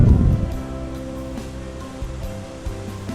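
The Lembah Anai waterfall flows at low volume as a steady broadband rush of falling water, with a brief louder burst at the start and no talking.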